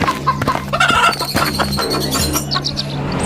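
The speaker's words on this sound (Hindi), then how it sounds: "रत्नू अपने बेटों को मुर्गियां देकर घर से रवाना कर देता है" Chickens cluck and squawk loudly up close in a busy, overlapping flurry of short calls with scattered chirps.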